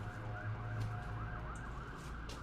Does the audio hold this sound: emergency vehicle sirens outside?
yes